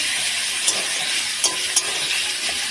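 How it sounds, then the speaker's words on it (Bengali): Tomato, onion, ginger and garlic fry in a hot wok after a tempering of garam masala and cumin, giving a steady, close, bright sizzle broken by a few sharp stirring clicks. "কড়াইয়ে গরম মশলা আর জিরে ফোড়ন দিয়ে টমেটো, পেঁয়াজ, আদা, রসুনটা ভালো করে আমি"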